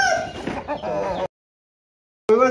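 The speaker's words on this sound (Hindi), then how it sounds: "असील मुर्गा है, बहुत असील माशाल्लाह।" An Aseel rooster at a Multan poultry market clucks and calls loudly up close, then goes quiet for a moment before another loud call begins.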